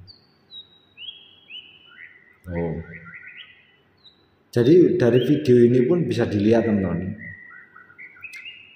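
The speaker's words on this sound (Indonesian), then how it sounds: "Burung ya, burung murai batu" A white-rumped shama (murai batu) sings in clear, whistled phrases with rising and falling notes, close by, then continues under someone talking.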